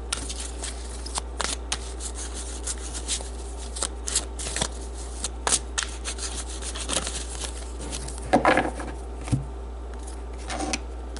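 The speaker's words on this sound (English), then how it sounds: "let's pull some more cards" Close, soft papery riffles and rubbing of tarot cards being shuffled by hand, in irregular bursts with a few louder flutters and taps over a quiet hum.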